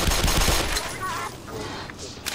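Rapid gunfire bursts from a Black Mesa shootout, dense and loud at the start, then thinning into scattered shots under background game noise.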